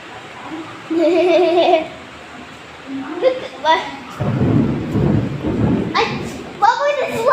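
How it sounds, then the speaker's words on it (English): Thunder rumbles loudly through a rainstorm during a hurricane, with low booming swells and steady rain beneath; children's voices and laughter carry over the storm. "What was this lightning? What? This is lightning."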